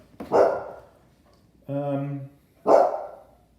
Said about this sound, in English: So, hey Max, I hear you barking.